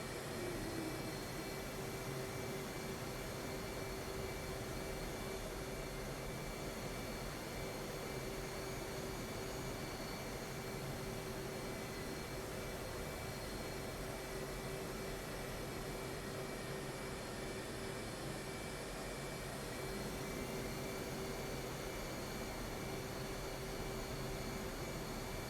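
A jet engine runs with a steady, loud roar while the aircraft taxis toward the runway in the DCS flight simulator. The roar holds a constant whine throughout, with no voices over it.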